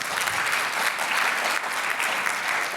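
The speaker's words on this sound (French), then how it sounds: "je vous prie d'accueillir, d'applaudir une fois encore son engagement" Steady audience applause at a high-level roundtable on Black health, a dense, even wash of clapping held throughout without voices.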